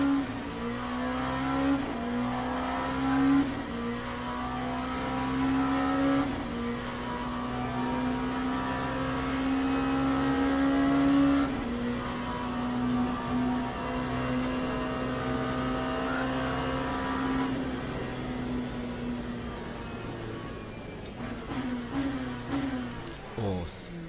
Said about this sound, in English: Hypercar coming.